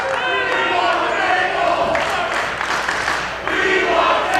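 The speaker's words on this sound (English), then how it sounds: "the crowd is chanting, "We want tables,"" At a women's wrestling event, a loud arena crowd chants in rhythm, with cheering and scattered claps swelling around the chant and an announcer's voice mixed in.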